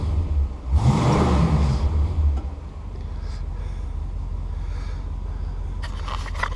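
A car revs and pulls away, a loud engine surge that fades into a steady low rumble as it drives off, with a few faint clicks near the end.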